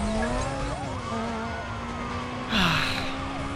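Police car siren in the racing video game Need for Speed: Most Wanted, a loud wailing tone sweeping up and down continuously over steady engine drone, with a brief burst of tyre or brake noise partway through.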